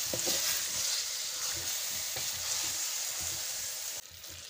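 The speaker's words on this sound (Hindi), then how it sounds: "इसको भी हम 10 से 15 मिनट तक के लिए अच्छे से भूनेंगे" Mustard greens saag sizzle and crackle in a pan while being stirred, with a steady frying hiss and occasional soft spoon scrapes, close but fairly quiet, the sizzle easing slightly near the end.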